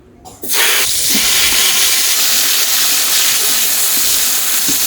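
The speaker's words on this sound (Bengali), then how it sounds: "এখন বেগুনগুলো ভেজে নেব।" Eggplant slices dropped into a hot pan of oil in a home kitchen, a soft start that bursts into loud, steady hissing sizzle after half a second and holds close and constant to the end, with no talking.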